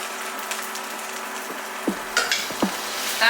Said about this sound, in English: We're going to allow that to brown up on one side and then flip it over and cook on the other side.